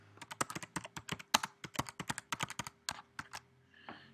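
Quick, irregular keystrokes on a computer keyboard tap out a message, close and fairly quiet, with short pauses between bursts and no talking.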